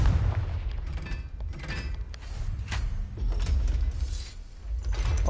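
A Confringo blasting spell in the Hogwarts Legacy video game bursts open a passage with deep, rumbling booms and grinding, creaking mechanism noises that continue loud and steady throughout.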